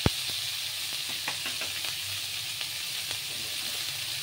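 Vegetables for chilli egg frying in a pan, a close, steady sizzle broken by several sharp clicks and taps of a spatula stirring, with a louder knock at the start.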